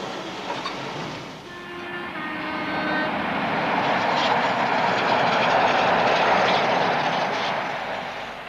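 A British Rail high-speed passenger train roars past, building from a distant rush to a loud broadband whoosh that holds for several seconds, then begins to fade.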